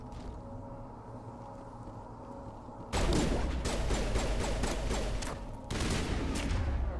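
Grenades go off in Mass Effect Legendary Edition on Eden Prime: after a low, steady rumble, a loud, close blast hits suddenly, then a crackling roar with rapid pops, and a second burst follows a few seconds later.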